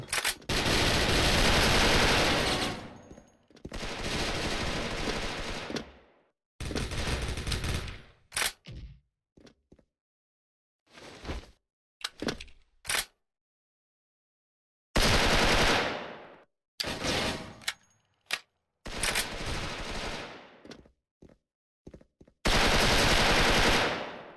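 An M4A1 rifle in the shooter game Special Force, fitted with a gold champion skin, fires in repeated automatic bursts of varied length, each sharp and loud, separated by short silent gaps.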